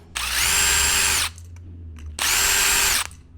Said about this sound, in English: there are 2 screws here on the bottom here, and we would have to take these off